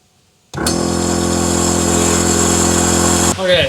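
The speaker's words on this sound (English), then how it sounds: "Now to add power, and hopefully the compressor turns on." An air compressor for a Lexus LS400 air suspension tank switches on after a moment of quiet, then runs as a loud, steady motor drone for nearly three seconds before a voice briefly overlaps at the end.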